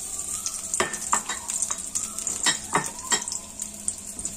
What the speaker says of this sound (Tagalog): Gisahin muna natin.